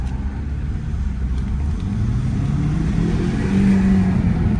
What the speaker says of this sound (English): just want to let you hear the engine